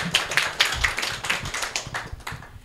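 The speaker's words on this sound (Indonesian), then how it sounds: "Boleh tepuk tangannya sekali lagi untuk Pak Jati." Scattered hand clapping from a small audience at a business seminar, honouring a presenter after his session; a few people clap unevenly, close by and moderately loud, tapering off within seconds.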